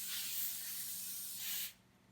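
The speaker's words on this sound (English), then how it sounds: "Now I'm going to spray some baking spray." A can of baking spray hisses steadily onto a parchment-lined baking tray. The close, continuous spray lasts under two seconds, then cuts off abruptly into quiet.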